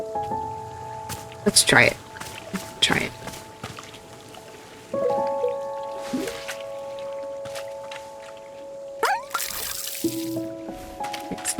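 Splashing water from a watering can poured over plants in Wanderstop, coming in short bursts of dripping and trickling amid soft chimes and tones, with a voice speaking briefly.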